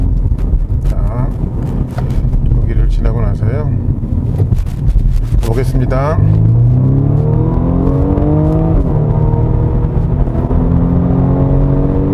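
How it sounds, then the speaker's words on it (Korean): A 2021 BMW M235i xDrive Gran Coupe's four-cylinder engine, with synthetic sound added, revs and builds speed on a winding road, its rising pitch sweeping upward with wind noise, while someone talks over it. "이 사기통 엔진 같지 않게 그렇게 소리를 좀 잘 조율해 놨습니다"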